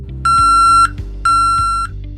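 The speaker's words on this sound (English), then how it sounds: "The alarm next to the locking bar will sound and a light will flash." Trailer locking bar alarm on a line-haul truck trailer sounding two loud, steady electronic beeps of about half a second each, one second apart, over a low idling engine rumble.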